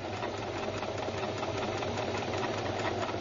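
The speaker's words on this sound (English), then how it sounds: "Now I'll sew the seam at the bottom." A domestic sewing machine runs steadily while stitching a seam on denim, a close, even mechanical whir with a fast, regular needle rhythm and no voices.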